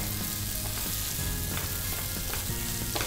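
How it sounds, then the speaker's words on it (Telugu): Prawns fry in a thick masala in a pan, a loud, continuous close sizzle with repeated scraping and stirring knocks, no talking. "ఇప్పుడు మనం ఇవన్నీ కూడా మసాలాకి పట్టేలాగా ఫ్రై చేసుకోవాలి."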